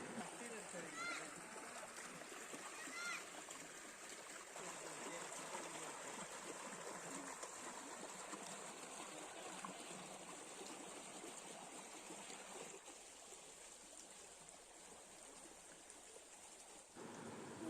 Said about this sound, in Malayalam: ഇത് ചെറിയൊരു തോടാണ്. ഇത് ഇവിടെ അടുത്തുള്ള പുഴയിലേക്കാണ് ചെന്നെത്തുന്നത്.